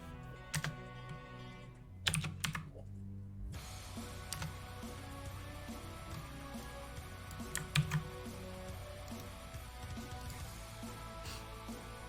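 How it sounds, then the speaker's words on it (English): Someone types on a computer keyboard in quick irregular bursts of soft clicks with short pauses between them, close by and quiet against a faint room background, with no voices. "So I've just been typing my little notes and things."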